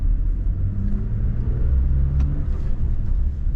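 Engine of a manual third-generation Toyota Tacoma pickup cruising on the interstate around 2,500 to 3,000 rpm, a steady low rumble with engine drone and road noise heard from inside the cab, no talking.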